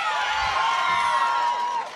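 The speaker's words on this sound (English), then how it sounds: "Never thought I'd hear people clapping for Jesus Christ on a college campus" A crowd on a college campus claps and cheers for Jesus Christ, a dense, steady wash of applause and voices that stays loud for the whole stretch before easing off at the very end.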